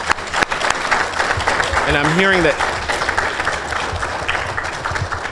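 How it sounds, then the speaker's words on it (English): Applause from a lecture audience fills the room at moderate loudness, with a voice speaking over the clapping. "So I'd like to give her a round of applause."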